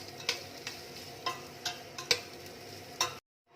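Pares, a beef stew, being sautéed in a pan, with soft stirring scrapes and light sizzling that recur every half second or so, close and quiet, before cutting to silence near the end.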